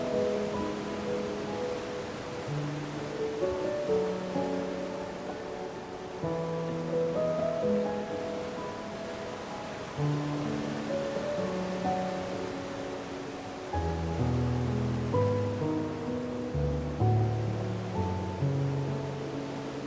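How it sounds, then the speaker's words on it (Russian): Large ocean waves break on the Fuerteventura shore as a steady wash of surf, continuous and fairly loud, with background music playing over it and no speech. "Снова огромные волны"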